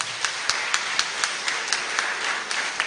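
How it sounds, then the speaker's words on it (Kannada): A church congregation claps during a basilica service, a steady broadband patter of many hands with a few sharper claps standing out, moderately loud and fairly close, with no talk over it. "ಅವರಿಗೂ ಒಂದು ಚಪ್ಪಾಳೆ"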